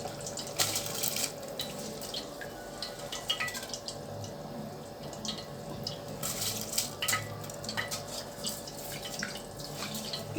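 Water bubbles vigorously in a pot while fish biryani is cooked, a continuous close gurgling and popping with irregular splashy bursts.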